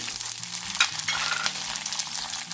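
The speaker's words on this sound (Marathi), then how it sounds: "थोडं तेल घातलं तडका देण्याकरता, मोहरी घालते" Mustard seeds hitting hot oil for a tempering, a dense, close, continuous sizzle with faint crackles over a few seconds.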